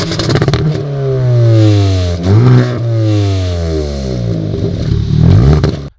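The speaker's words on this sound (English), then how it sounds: "a very, very big dual exit oval exhaust that makes quite a nice noise" A Hyundai i20N with a big dual exit oval exhaust revs hard several times, its loud engine note rising and falling close by with no talking.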